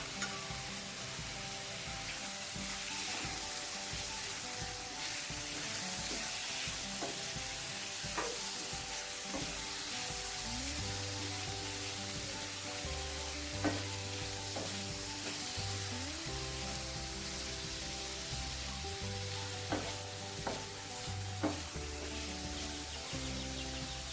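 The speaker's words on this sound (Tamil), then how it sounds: "இந்த இறாலை இப்போ இதில் போட்டு வதக்கிக்கலாம்." Cleaned prawns sautéing in a hot pan for Tamil prawn thokku, a constant bright sizzle with periodic stirring clinks, and a steady low hum running beneath it.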